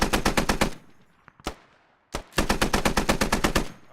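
Suppressive machine gun fire in a platoon drill, likely in a military video game, rattles out in steady rapid bursts, broken by a short pause with a couple of single shots before the sustained fire resumes.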